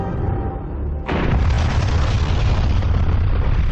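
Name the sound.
huge Soviet nuclear bomb explosion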